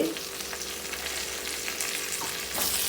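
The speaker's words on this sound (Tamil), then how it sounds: "இப்போ நல்லா மிக்ஸ் கொடுத்துட்டு மூடி வச்சு கொஞ்சம் வேகும்" Cut vegetables, tomato and salt stirred in a pot for Tirunelveli-style sambar, with a continuous frying sizzle and repeated spoon scrapes and clinks against the pot, close and fairly loud.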